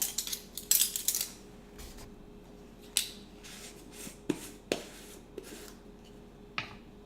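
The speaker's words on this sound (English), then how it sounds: "We just started, so we're just measuring out the dry ingredients." Measuring spoons clink against containers while dry ingredients for a chocolate walnut banana bread are measured out, a few light metallic taps and scrapes spaced apart over a low steady hum.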